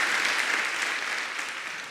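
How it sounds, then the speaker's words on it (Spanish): A Spanish-speaking church congregation applauds during a morning service, a thick, hissing wash of many hands clapping at once. It starts full and fades slightly over two seconds, with no voices. "Dale un fuerte aplauso a Dios esta mañana."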